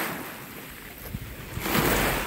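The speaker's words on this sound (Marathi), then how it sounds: "लाटा पण मस्त येत आहेत।" Waves lap and wash against the shore of Pangong Lake in Ladakh, soft at first and then building into a louder surge, with gusts of wind buffeting the microphone.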